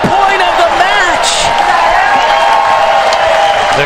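A big crowd at the U.S. Open pickleball championship cheers and claps after a match-winning point, loud sustained roar and applause with a commentator talking over it.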